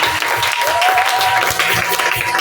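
A church congregation claps together in a dense, sustained wash of applause that fills the space, with a faint tonal voice or instrument line drifting underneath.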